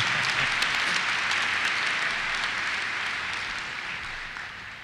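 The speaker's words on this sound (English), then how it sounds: "I need an applause for that." Commencement crowd at the University of Iowa College of Engineering applauding, a dense, loud wash of clapping that holds steady and slowly fades toward the end.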